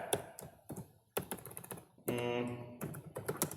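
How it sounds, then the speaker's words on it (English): Rapid clicks of a computer keyboard being typed on, in uneven bursts, with a brief voiced murmur partway through. "paragraph I am typing."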